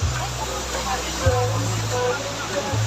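Broad rushing water noise of the Tad Nok Kok waterfall in Laos, steady and full across the whole stretch, with a low droning hum underneath and faint talk mixed in.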